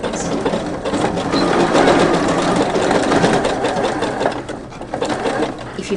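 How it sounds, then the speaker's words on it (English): A sewing machine stitches coiled rope, running continuously with a fast mechanical whirr and slight pauses as it reverses direction, close and steady throughout. "my first few stitches are going to go forward and backwards"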